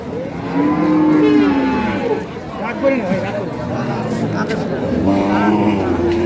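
Dairy cows and calves moo repeatedly at a rural cattle market in Dinajpur. The long, loud calls rise over a steady crowd murmur, with people talking throughout.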